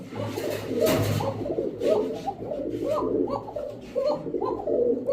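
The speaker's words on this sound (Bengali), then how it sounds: "দেখেন ককাটা এই যে ডাকলো একদম চিকন কণ্ঠের" Male pigeons, including Pakistani Teddy and other fancy breeds, coo repeatedly close by in a loft, a rhythmic series of soft throaty calls layered with other birds, with someone speaking intermittently underneath.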